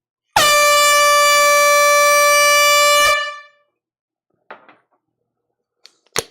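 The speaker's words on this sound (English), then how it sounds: "This is a big air horn." A single loud, sustained air horn blast lasting about three seconds, followed by quiet and a few small knocks and clatters.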